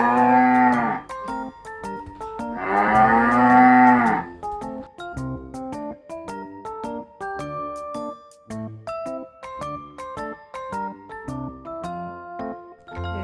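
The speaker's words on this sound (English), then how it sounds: "cow," A cartoon cow moos twice in a children's farm animal song, two long, loud, drawn-out calls near the start that give way to a bright, bouncy jingling melody.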